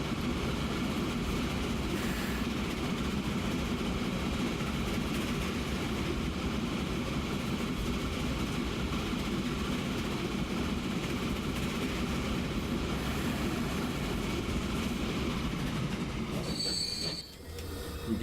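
A train rolls continuously in the Transport Fever game, a loud steady rumble with metallic wheel squeal that runs unbroken and then dips briefly near the end.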